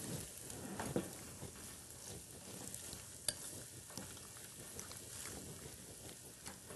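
Onions sauteing in margarine in a skillet give a faint, steady sizzle with a few soft pops and stirring scrapes, quiet and without voices.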